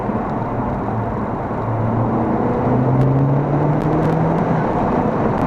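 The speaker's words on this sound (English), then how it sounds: "you can hear a bit of wastegate chatter and a bit of flutter as well actually" The engine of a Honda Civic Type R FK8, heard from inside with the windows down, gives a loud, dense roar whose tone climbs steadily as it pulls, with no talking over it.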